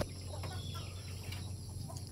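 Chickens clucking softly on a farm in short scattered bursts over a steady low hum, with faint background noise throughout.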